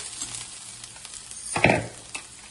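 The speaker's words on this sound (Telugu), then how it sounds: "ఇట్లా సగం ఉడికిన తర్వాత ఉల్లిగడ్డ వేగింది కదా" Chopped onions sizzling and frying in a pan for a fenugreek-leaf and lentil-dumpling curry, a steady close crackle swelling with a brief stirring burst midway.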